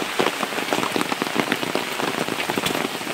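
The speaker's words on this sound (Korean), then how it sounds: "비가 오니까 너무 좋네요." Steady rain drums on a car and tent during a car-camping trip in Gangwon-do, Korea, a dense, constant patter of drops hitting the surfaces close by, with no voices.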